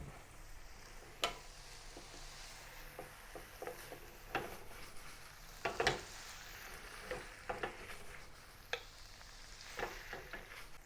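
Soft, quiet sizzling of tofu dry-frying without oil over low heat in a pan, with scattered faint crackles and occasional light pops and scrapes, no voices.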